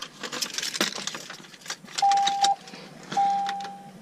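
Keys jangle in a quick metallic clatter while someone searches for them in a garage beside a lifted Duramax diesel truck, followed by a few steady electronic beeps.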